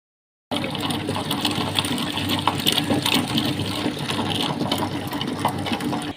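An electric kitchen grinder churns soaked cotton seeds with water into milk, giving a steady, loud whirring and sloshing drone that starts abruptly and runs unbroken, with no voices.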